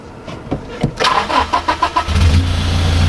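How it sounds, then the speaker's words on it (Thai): A 2016 Toyota Hilux Revo Smart Cab with the 2.4 engine and manual gearbox cranks briefly, catches and settles into a steady idle with a soft, mellow exhaust tone, close and loud. "เดี๋ยวผมจะสตาร์ทเครื่องให้ฟังเสียงก่อนเลยอันดับแรก"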